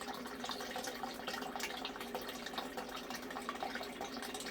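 Water pours steadily into a sump pit like a faucet left open, a continuous near splashing flow with no voices.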